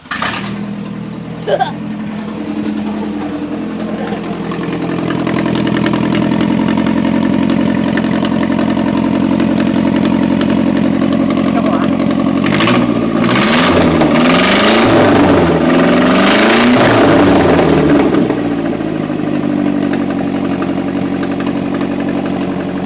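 Motorcycle with a broken exhaust pipe idling loudly and close, a rough, steady rumble that swells into several uneven revs midway before settling back to idle.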